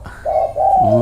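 Spotted dove cooing close by, a soft two-part coo with a rising third note at the end, clear and alone with no voices.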